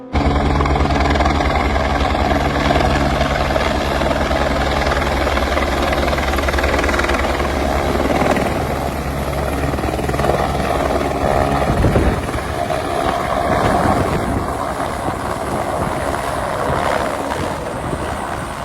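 A helicopter at the Kedarnath helipad runs loud and steady and close for most of the stretch, its rotor and engine roar easing slightly and turning rougher near the end, with no talk.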